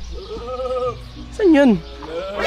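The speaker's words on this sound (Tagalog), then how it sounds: "Ang lakas ng tupa na yun, ah." A sheep bleats loudly nearby, a wavering call followed by a stronger descending bleat, with people talking around it outdoors.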